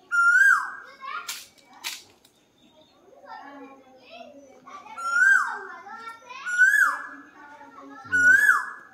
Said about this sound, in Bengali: কোকিলের ডাকটা শোনো খালি।